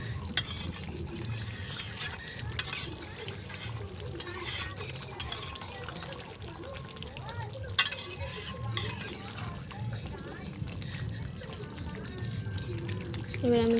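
A spoon scrapes and stirs chicken with green chillies and potatoes in a pan, steady close-up mixing with soft sizzling and occasional knocks against the pan.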